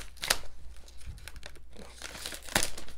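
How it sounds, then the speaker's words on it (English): Gift-wrapped books being unwrapped, with close wrapping paper crinkling and tearing in several loud bursts, the sharpest near the start and end, and quieter rustling in between. "I'm going to unwrap them and take a look at what we have"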